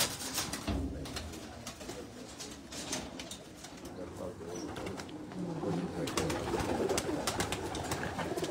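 Bred pigeons kept by a fancier in Islamabad coo in low, rolling calls that carry on steadily close by, several birds overlapping, with brief wing flutters and people's voices mixed in.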